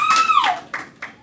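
Sparse golf claps from a small audience at a stand-up comedy night in the Long Branch Lounge: two lone, close claps a beat apart, following a brief high whistling tone.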